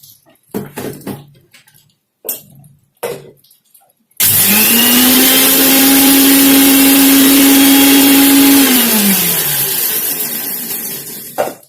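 An electric mixer grinder whirs loudly and steadily while crushing red chilies and garlic, its motor droning for several seconds before winding down, after a few brief knocks and clatters in a home kitchen.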